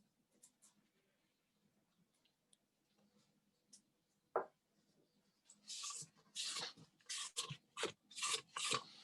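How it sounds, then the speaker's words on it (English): A spatula scrapes the sides of a mixing bowl of pumpkin whoopie pie batter with molasses, quiet at first, then several louder rasping strokes toward the end. "I'm going to stop for a second in order to scrape down the sides."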